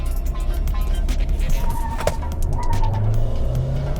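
A 2021 Mahindra XUV700 petrol SUV launching hard from a brake-torque start with ESP off, its engine roaring close by with a short chirp of wheel spin, while someone talks over it.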